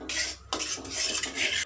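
A spoon clinks and scrapes around a bowl while soy sauce, red chili sauce and tomato ketchup are mixed together, several close, quick stirring strokes with short pauses.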